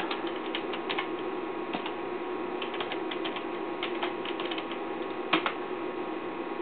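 Keys clack on a TI-99/4A home computer keyboard as a program is loaded, light rapid taps in irregular bursts over a steady electrical hum, close and fairly quiet.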